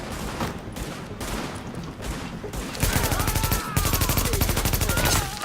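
Rapid automatic gunfire crackles in a firefight in the video game The Division set in Manhattan, with scattered shots first, then dense sustained bursts that grow louder and continuous.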